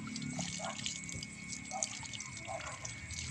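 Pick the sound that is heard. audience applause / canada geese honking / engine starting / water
water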